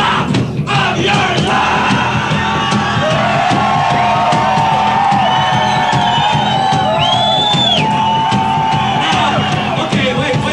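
A large crowd of people in Champaign screams and cheers at the top of their lungs, a dense, sustained roar of whoops and yells that stays loud throughout.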